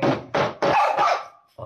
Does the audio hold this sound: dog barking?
yes